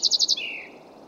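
Fox sparrow singing a quick phrase: four bright, sharp rising notes in rapid succession followed by a short lower trill that fades, clear and fairly close in open air.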